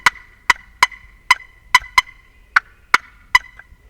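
A hand-operated turkey call mimicking hen clucking, a series of about ten sharp, loud, close clucks in an uneven rhythm with short gaps between them.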